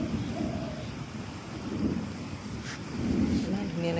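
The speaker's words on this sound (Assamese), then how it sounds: "এয়া চাওক আমাৰ ইয়াত এতিয়া বহুত বতাহ দি আছে।" Strong wind gusts over an Assamese river, buffeting the microphone with a loud, continuous roar that rises and falls, while rippling water churns faintly underneath.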